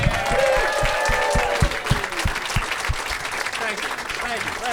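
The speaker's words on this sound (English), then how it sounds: "Please give a big round of applause for our guest, Dwight Simmons, everybody." Steady applause from a crowd fills the whole stretch, dense clapping that carries on at an even level with a few cheers mixed in.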